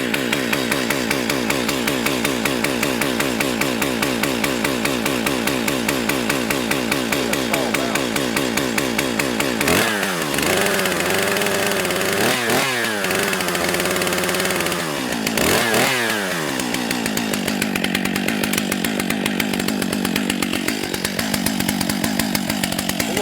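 A brand-new Stihl MS 661 chainsaw running steadily and loud at close range, with several revs and bogging dips in the middle before it settles back to an even drone.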